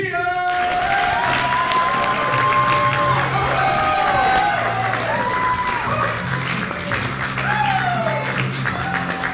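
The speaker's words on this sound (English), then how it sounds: "big warm round of applause right now." Loud, sustained audience applause and cheering for the comedy troupe Wittypedia at a comedy show, dense clapping throughout with whoops and shouted cheers over it.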